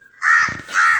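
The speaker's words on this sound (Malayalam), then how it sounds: "കാക്ക വിളിക്കുന്നുണ്ട്" A crow gives two loud, harsh caws close by, each a drawn-out rasping call with a short gap between them, outdoors with nothing else audible.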